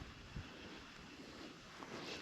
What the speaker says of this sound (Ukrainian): Вітер посилюється